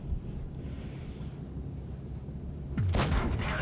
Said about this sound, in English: I'm going to just shoot the Sheridan's tracks to see if we can get a shell to go through